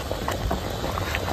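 A pot of sour mixed fish curry with crab bubbles at a steady simmer, giving a dense, even boiling hiss that lasts the whole moment, heard close and fairly loud.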